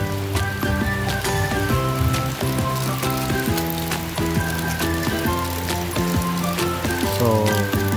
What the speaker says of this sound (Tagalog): So maulan na umaga.